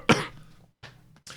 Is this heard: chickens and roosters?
no